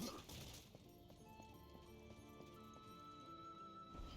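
Horse galloping in the video game Darksiders 2, rhythmic clip-clop hoofbeats and a whinny over quiet game ambience and music, moderately loud and steady.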